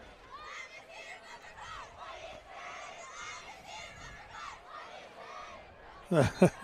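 Packed stands at a high school football game between Nemaha Central and Marysville fill with moderately distant crowd chatter and cheering, ending in a short, louder burst of shouting.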